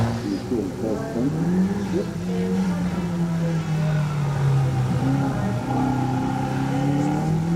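A Datsun 1600 race car running a hillclimb at the Legend of the Lakes event: the engine note climbs and shifts through the gears at mid distance while a commentator talks over it.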